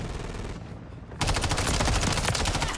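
Rapid automatic fire from the MTZ-556 rifle in Modern Warfare 3, a dense loud burst that starts after a brief lull and rattles on steadily to the end.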